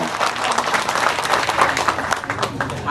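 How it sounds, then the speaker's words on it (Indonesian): Audience applause at a Cak Nun Ngaji Bareng gathering, greeting Ega and her fiancé: steady, dense clapping from a large crowd, loud and continuous throughout. "Tepuk tangan untuk Ega dan calon suaminya"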